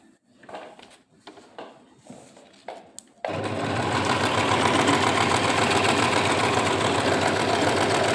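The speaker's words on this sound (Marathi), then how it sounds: "त्याच्यानंतर मी तुम्हाला शिलाई करून दाखवते" A sewing machine stitches on a sheet of A4 paper, starting after a few quiet handling sounds and then running continuously with a fast, even mechanical whir, close and steady.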